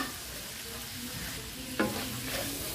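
Chopped fresh garden tomatoes are stirred into a hot frying pan while cooking vegetables with pechay, giving a steady sizzle with a sharp scrape of the spoon near the end.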